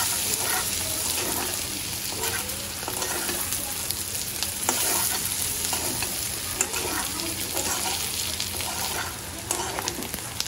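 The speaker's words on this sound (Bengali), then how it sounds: "হয়ে গেছে তিল্লি ভাজা।" Fish milt (tilli) fries in a pan with onion and dried chilli, making a continuous close sizzle with stirring scrapes throughout and no voices.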